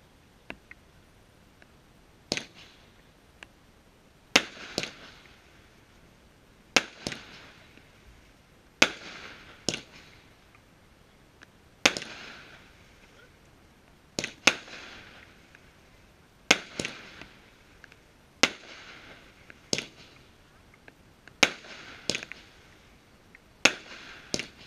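A Hypnotica fireworks battery, a 25 mm, 10-shot cake with crackling titanium-gold tails, fires a sequence of sharp booms spaced about two seconds apart, each followed by a brief fizzing crackle, heard from a distance.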